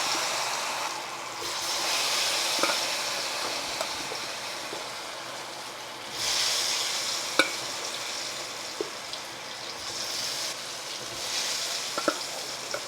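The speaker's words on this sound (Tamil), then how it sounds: "இப்போ இதை பொரிக்கலாம்." Potato pieces fry in a little hot oil in a wide pan for a curry, a steady sizzling hiss that swells as they are stirred, with occasional spoon scrapes and clicks, close up with no talking.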